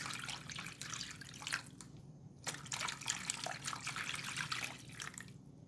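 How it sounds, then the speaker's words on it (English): Plain water, about four cups, being poured into a reservoir tray for growing radish microgreens without soil, a steady close trickling and dripping with brief pauses and no talking. "We're gonna take that reservoir tray and we're gonna fill it with 4 cups of water."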